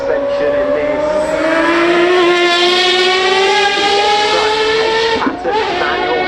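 A hypercar with a 9-litre Cosworth V12 and race-grade suspension screams by flat out, a loud, sustained high-pitched engine wail with steady rising harmonics and a brief dip near the end.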